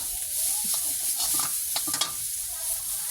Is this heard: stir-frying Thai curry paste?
yes